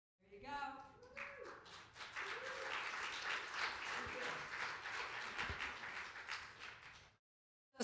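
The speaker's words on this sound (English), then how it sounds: "could you do me a favor and just give me applause one more time? Just really applause" An audience breaks into sustained applause, dense clapping rising quickly after a few notes of music and holding steady for several seconds before cutting off abruptly.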